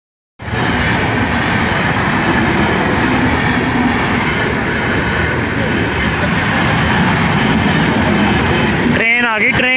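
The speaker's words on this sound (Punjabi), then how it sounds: "ਟ੍ਰੇਨ ਆ ਗਈ ਟ੍ਰੇਨ" A train rushes past at close range, a loud continuous roar with rattling wagons that starts abruptly and holds steady for several seconds before fading, followed by brief voices at the end.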